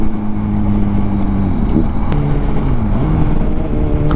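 A motorcycle fitted with a full aftermarket exhaust system, its engine droning loudly and steadily up close, the pitch holding, then dipping and rising again as the bike changes speed, with wind buffeting the microphone throughout.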